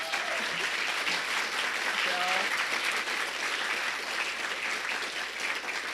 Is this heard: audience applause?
yes